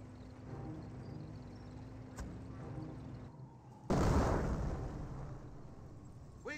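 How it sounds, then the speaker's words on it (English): Mortar fire in the World War II strategy game Company of Heroes: distant battlefield rumble with a sharp crack, then a sudden loud explosive burst that decays into sustained rumbling, no talk. "More mortars raining on in."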